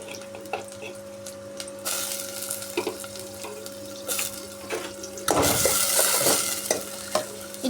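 Sliced onion sizzles in hot oil with cinnamon and cloves in a pan, a soft crackling fry broken by spoon stirring and scraping, with a louder burst of sizzle near the end.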